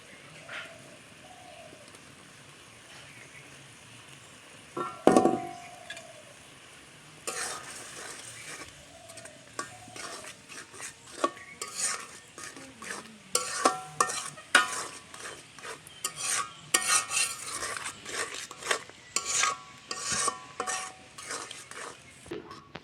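Grated coconut is stirred into a ridge gourd curry frying in a pan, with a soft steady sizzle and scraping spoon strokes against the pan that grow busier and more rhythmic in the second half.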